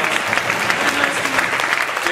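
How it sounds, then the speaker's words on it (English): Audience at a talent show applauding, a dense, loud, continuous clapping from a crowd that holds steady throughout. "let's give a big round of applause to Kelly"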